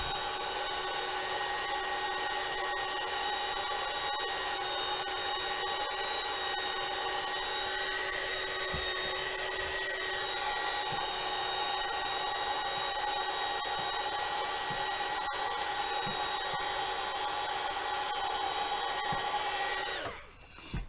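A heat embossing tool blows hot air in a steady, loud, whining drone that holds close and unbroken for about twenty seconds before cutting off at the end.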